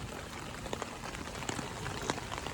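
Heavy rain pours down in a dense, steady hiss with scattered distinct drops pattering on a nearby surface.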